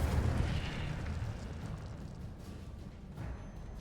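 Incendio fire spell cast in the Hogwarts Legacy video game, a loud rushing, booming burst of flame that swells at the start and rumbles on, with a second flare near the end.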